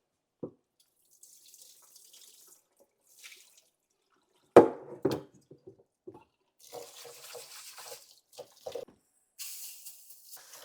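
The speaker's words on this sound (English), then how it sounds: "Now I'm gonna rinse it out until the water runs clear." A kitchen tap runs in short bursts as rice is rinsed, water splashing and draining into a sink with a sharp clatter midway, intermittent and close, separated by quiet pauses.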